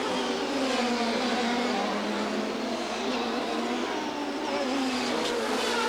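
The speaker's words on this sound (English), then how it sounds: "The back end of the car slides around a little bit as those rear tyres complain about putting 900 horsepower down onto this smooth tarmac surface" A 1998 CART race car driven by Tracy accelerates hard in 2nd gear through turns 6 and 7 at Vancouver, its 900-horsepower engine screaming loud and steady while the rear tyres slide on smooth tarmac; a commentator talks over it.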